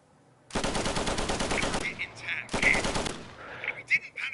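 Machine gun fire from a gunner position in the video game Easy Red 2, two sustained loud bursts of rapid automatic shots, each trailing off into fading echoes.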